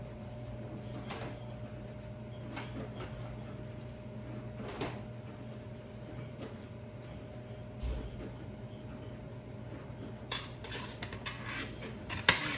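A spoon stirs milk into a mac and cheese mixture, with soft scraping and occasional clinks against the dish over a low steady hum and a louder clatter near the end.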